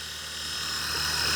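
Blade Eclipse 360 radio-controlled helicopter in flight, a steady high whine with a strong harmonic tone that builds slightly louder and nearer across the short span, with no voices.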